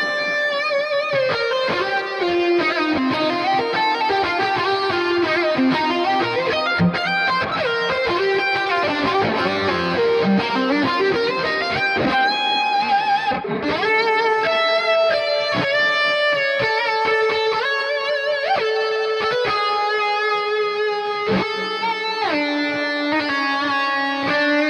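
Electric guitar lead plays sustained notes and bends, each trailing repeating echoes that blur together; played alone without voices.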